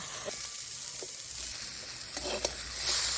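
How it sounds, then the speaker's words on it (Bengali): Gima greens and potatoes cook in a pan with a little liquid, a soft steady sizzle broken by a few brief scrapes of stirring, with no voices. "এই যে শাক দিয়ে আলু দিয়ে নাড়তে নাড়তে এই যে অল্প যে রস রস হয়েছে"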